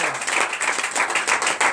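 A church congregation claps steadily in a brisk, continuous rhythm during a Sunday service, fairly close and filling the whole moment.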